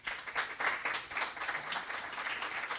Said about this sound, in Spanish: Quiero que les demos un fuerte aplauso.